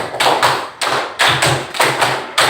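A group claps hands in unison, five quick claps in a rhythmic pattern repeated twice, close and loud with no talking, at a school gathering sharing a positive-culture routine.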